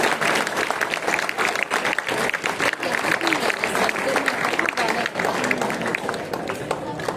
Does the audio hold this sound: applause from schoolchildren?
yes